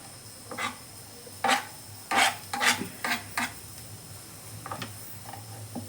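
Radish being chopped into small pieces with a knife for sambar, giving close, irregular taps and scrapes on a cutting board in short bursts, with no one talking.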